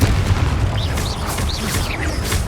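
A Confringo fire spell explodes in the video game Hogwarts Legacy, landing as a dense, sustained low boom with crackling bursts over rumbling combat noise, loud and close throughout.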